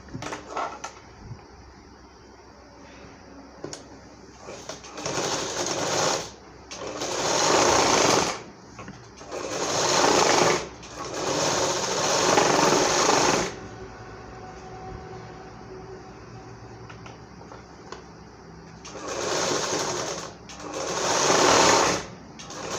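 Domestic sewing machine running a fitting seam on a designer blouse, in several bursts of steady mechanical whirring separated by short pauses, close and fairly loud with no talking.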